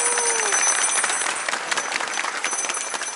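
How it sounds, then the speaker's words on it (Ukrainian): Crowd applause at an outdoor Christmas celebration in Lviv during a ceremonial moment: a dense patter of many hands clapping, steady and moderately loud, with a faint voice briefly underneath at the start. "Оплески."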